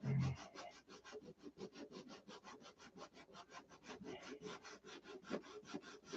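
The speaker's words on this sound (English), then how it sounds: "let's see if we can sand this out here" Quiet, close rhythmic rasping strokes of sandpaper rubbing over a repaired wing on a Tucker XL aircraft, steady back-and-forth passes repeating several times a second.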